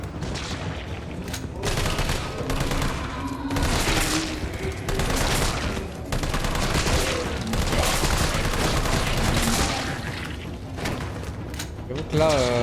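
Gunfire from the Resident Evil 3 video game, with dense, repeated loud bursts and booming shots over a noisy backdrop as a person talks and reacts.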